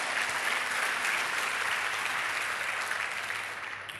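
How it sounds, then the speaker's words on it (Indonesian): A congregation claps together at a church cell-group worship gathering, a thick, even roar of many hands that carries on steadily and tapers off in the final second. "Tepuk tangan bagi Allah kita."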